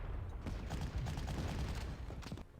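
Gunfire in the Panzer Corps strategy game as infantry attack an anti-tank weapon, a dense burst of crackling shots and rumbling impacts that stays loud and continuous throughout.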